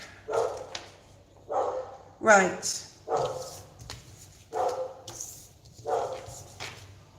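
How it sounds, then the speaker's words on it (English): A dog barks indoors at a moderate distance, about six separate barks spaced roughly a second apart, with a person speaking briefly between them. "And there's a dog barking."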